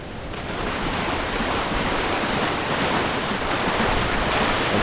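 Water splashes and rushes in the Space Engineers video game, a dense, steady wash of noise that swells slightly early on and then holds loud and constant, with no voices.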